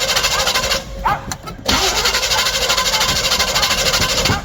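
Chevy small block engine cranking and failing to catch, a loud, close, rhythmic starter churn that stops briefly then resumes without the engine firing.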